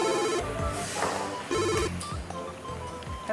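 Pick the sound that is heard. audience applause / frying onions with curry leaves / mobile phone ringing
mobile phone ringing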